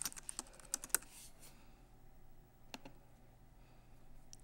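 A file name is typed on a computer keyboard on a Mac, a quiet scattered run of light key clicks, with a few sharper taps at the start and then occasional isolated keystrokes.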